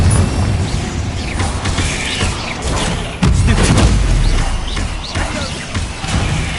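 Spell blasts from Incendio and Confringo burst in a wizard video game as repeated heavy booms and crashes over a thick, rumbling game soundscape, with one especially strong impact midway.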